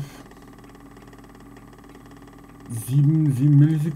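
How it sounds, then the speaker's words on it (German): A Technics SL-BL3 turntable motor runs under repair, a faint, steady mechanical hum with a fine periodic pattern, up close, before a voice cuts in near the end. "Aber der Motor macht Geräusche, das ist schön."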